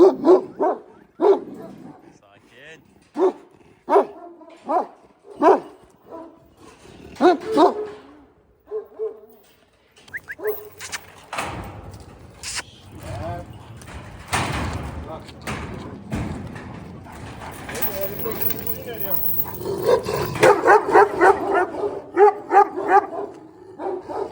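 A purebred Kangal Anatolian shepherd dog from Sivas barks in a steady series of loud, deep woofs, then the barking grows rougher and overlaps with nearby people talking and laughing.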